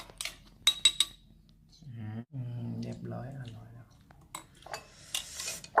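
A spoon clinks and scrapes against a bowl while Thai shrimp paste chili dip (nam prik kapi) is stirred. Sharp clinks come early, then someone talks over softer stirring before a few more taps.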